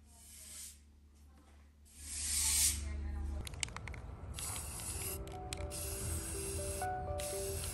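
An aerosol can of spray paint sprays in a loud, steady hiss in cold weather, with a rattling mechanical rustle and faint background noise around it.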